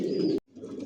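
Adult racer pigeons in a loft give a short burst of low cooing that breaks off into a brief silence and then resumes more faintly.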